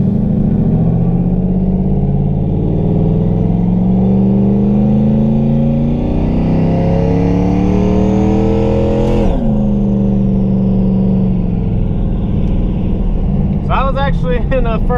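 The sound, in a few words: TH400 Mustang accelerating through second-gear pulls, 2,500 to 5,000 rpm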